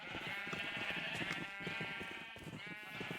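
Sheep in the game Minecraft bleat repeatedly in a dense, overlapping flock, calls rising and falling in quick succession at a faint, steady level, with no voices over them.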